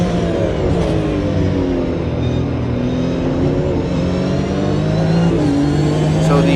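Porsche 911 Cup race cars accelerate at the Long Beach Grand Prix, loud close engine drone with rising revs and gear changes, steady and sustained, heard alone without talk.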